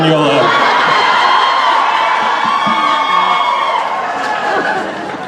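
A large convention crowd at a Supernatural fan event in Las Vegas cheers and whoops loudly, a dense roar of voices with shouts and laughter that slowly fades over a few seconds.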